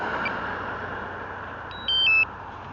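A drone controller gives a short series of electronic beeps as it powers off outdoors by a canal, clear over steady background rumble.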